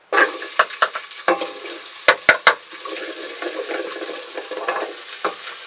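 Onions fry in a pot for minestrone, a steady sizzle broken by sharp scraping strokes of a spoon stirring, with a quick cluster of louder knocks midway.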